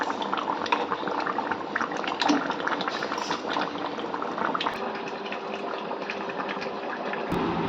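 Meat curry bubbling inside an overfilled small pressure cooker, a steady close roil of boiling liquid with faint clinks of pot and utensil, no talk.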